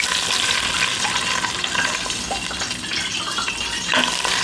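Onions fry in hot oil with a dense, close crackling sizzle that runs without a break, along with light stirring sounds.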